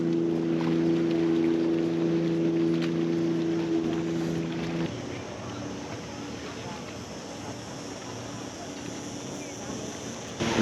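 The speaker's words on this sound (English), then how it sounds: "that's a beautiful boat" A boat's engine drones steadily on the water for several seconds, then fades as it moves off, leaving wind noise; the steady drone is loud at first and drops away partway through.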